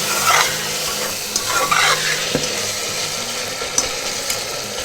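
Spices and tomatoes sizzle in a pressure cooker over low heat, a steady close fry with a few scrapes and clinks of a stirring spoon against the metal.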